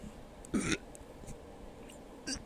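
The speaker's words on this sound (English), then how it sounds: "I feel like I have another burp coming." A person burps, one short throaty belch followed by a smaller second one, close and fairly quiet in a still room.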